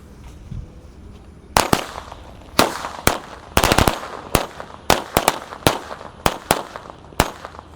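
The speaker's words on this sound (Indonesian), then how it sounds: "Ini yang ukurannya kecil-kecil tapi suaranya kencang sekali ya. 30 biji kita nyalakan." A pack of 30 small Corsair Golden firecrackers bursts in sharp, loud cracks, scattered irregularly over several seconds after a quiet lead-in, some bangs bunching into rapid rattles.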